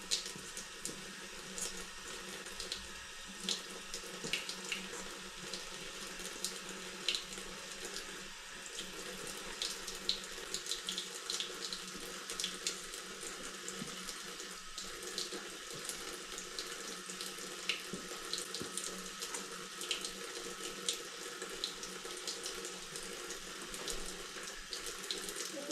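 Kitchen tap water runs steadily into a sink for nearly half a minute, a close continuous splashing hiss while fingers are wetted for handling shaggy bread dough.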